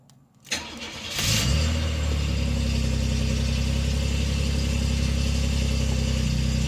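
A 1989 Chevrolet Celebrity with a failed lower intake manifold gasket cranks briefly and catches, then settles into a steady, loud, close idle that runs on alone without talk.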